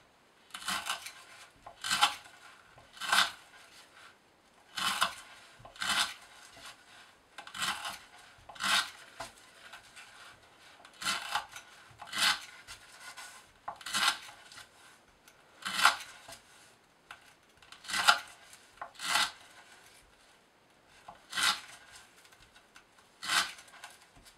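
A Spyderco Sage 2 knife with an S30V steel blade push-cuts through rope again and again, each pass a close, rasping, fibrous rub, about twenty strokes in a steady rhythm with no talking.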